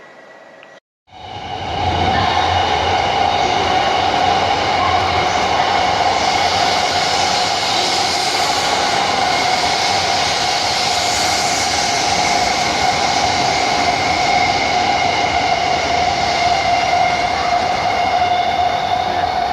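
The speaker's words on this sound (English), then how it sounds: "So that train isn't stopping." A non-stopping JR Shinkansen bullet train bound for Niigata roars past at high speed, a loud sustained rushing rumble with a steady whine that begins abruptly and continues throughout.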